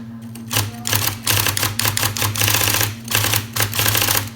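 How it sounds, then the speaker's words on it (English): A running IBM Selectric II electric typewriter with gray keycaps hums steadily under rapid bursts of loud, close mechanical typing clatter, with short gaps between the bursts. "This again is also an IBM Selectric II"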